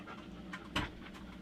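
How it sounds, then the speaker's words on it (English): A dog panting close by indoors, soft quick rhythmic breaths at a low level with one slightly louder huff partway through. "Hey, my dog is here."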